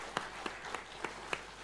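A few sparse, faint claps from a church congregation welcoming members at an Easter service, about five separate claps spaced across the moment with no talk.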